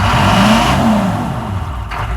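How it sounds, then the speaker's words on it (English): A 6.2 diesel engine revs up close by, a steady loud mechanical drone with a rising and falling pitch that holds throughout, with no voices over it. "I got excited by revving it up"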